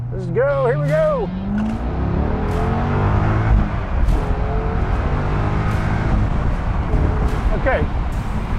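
A silver 2012 Chevrolet Corvette convertible revs up to 7,000 RPM, its loud engine rising and falling in sustained pulls, with a person speaking over part of it.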